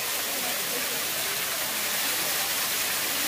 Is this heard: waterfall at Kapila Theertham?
yes